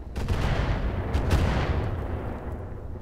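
Mech weapons in the game Roguetech fire on a target in heavy, rumbling volleys, booming impacts rolling together loudly before tapering off near the end.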